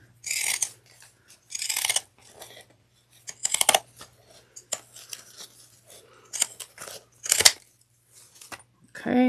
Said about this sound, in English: Trimming.